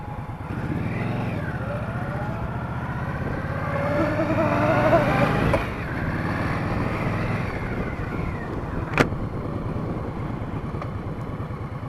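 A motorcycle engine idles while the rider sits at a red light in hot weather, a steady low rumble heard close throughout, with a slight rise in revs midway and a sharp click later on.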